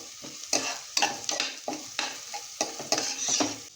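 Chopped onion and curry leaves sizzle in a hot pan while being stirred, the steady frying hiss broken by repeated scraping strokes of the spoon, close and moderately quiet.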